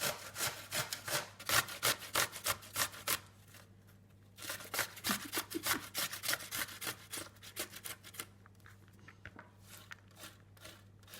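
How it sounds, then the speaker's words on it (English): A cucumber is grated for a yogurt sauce to go with sweet potato fritters, a steady rhythmic rasping scrape repeated quickly and close, a brief pause midway, then more strokes that slow and fade a little. "I'm going to grate the cucumber next."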